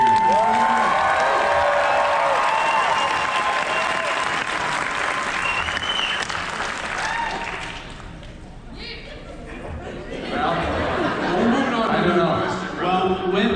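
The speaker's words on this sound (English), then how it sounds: "let's give Eric one more round of applause so he can hear it." An audience at a convention fan panel applauds and cheers loudly. The applause eases off midway, then picks up again with scattered whoops, and speech is mixed in.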